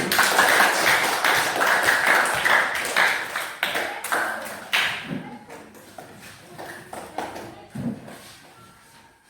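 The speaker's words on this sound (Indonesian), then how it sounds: "tepuk tangan untuk kelompok 1" Classroom applause for a student group after their presentation, a dense burst of children's clapping that thins out into scattered individual claps and fades over several seconds.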